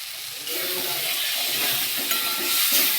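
Mango pieces with salt are stirred and sautéed in a pan, giving a steady close sizzle with scraping stir strokes throughout and no talk.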